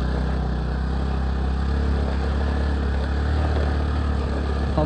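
A vehicle engine labours up a steep off-road hill on the way to Rajarani near Letang, a dense continuous low drone with rumble, steady and close throughout, no voices.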